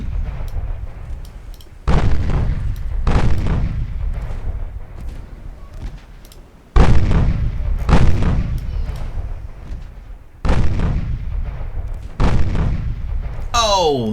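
Naval gun turrets fire in the Ultimate Admiral Dreadnoughts warship game: six heavy, loud booms at uneven intervals, each followed by a long, rumbling decay.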